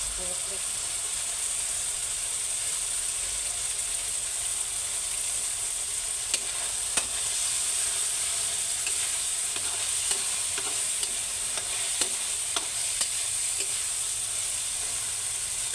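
Kangkong and tofu with oyster sauce stir-frying in a hot pan, a continuous bright sizzle with scattered scraping stir clicks throughout, close and steady.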